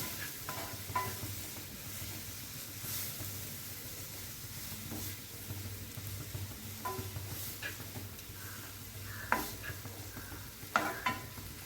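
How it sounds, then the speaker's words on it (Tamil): Carrots sautéing in a pan for carrot upma, a steady soft sizzle with occasional scraping stirs and light clinks of a spoon against the pan, quiet and close. "நல்லா வதக்கிக்கோங்க"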